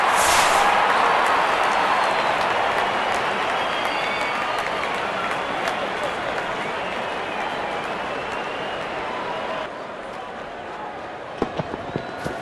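A cricket stadium crowd applauds a six in an India versus South Africa T20 match, a loud, sustained wash of clapping and cheering that slowly eases, with commentary faintly beneath and a few sharp knocks at the end.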